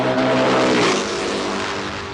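A 1973 Norton racing motorcycle ridden by Peter Williams screams past at speed, its loud, high engine note sweeping by and dropping in pitch as it recedes over about two seconds.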